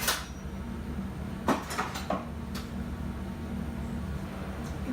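Kitchen utensils clatter and knock together in a few brief bursts while someone rummages for a slotted spoon, over a steady low hum and background hiss.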